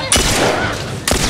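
Gunfire from The Last of Us Remastered, a loud shot at the start, a ringing tail, then another sharp shot near the end, in the close, punchy style of a game weapon.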